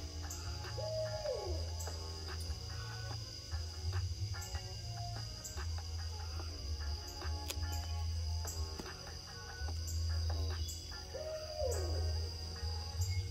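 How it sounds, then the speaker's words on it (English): A barred owl in Tennessee hoots in several clear, drawn-out calls set at intervals. Crickets trill steadily under the calls in a quiet night setting. "I'm pretty sure that's one of our barred owls."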